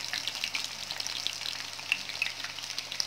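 Chicken pieces deep frying in oil for KFC-style chicken, a dense steady sizzle with fine crackles and pops, close and moderately quiet, with no voices.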